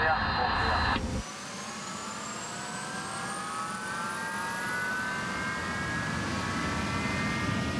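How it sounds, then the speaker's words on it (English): Jet engines on an aircraft run up for a test on the tarmac, with a rising whine that climbs steadily over a broad constant roar. A brief loud burst opens it before the engines settle into the sustained spool-up. "the jet engines need to go for a test spin on the tarmac"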